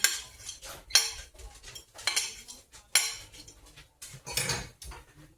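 A utensil scrapes and clinks against a pan while ribeye steak pieces are stirred in butter, in repeated close metallic strokes at an uneven rhythm with no voices.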